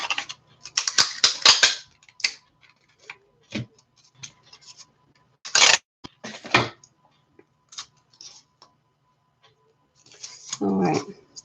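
Adhesive tape pulled and wrapped around a craft bunny body in short bursts of crackly ripping and tapping, loud near the start and again mid-way and at the end, with quiet gaps between.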